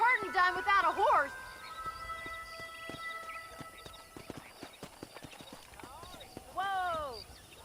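Horse hooves clip-clopping in Red Dead Redemption, a steady rhythmic run of sharp hoofbeats under a whinny and a shouted call, with cattle-herding ambience around them.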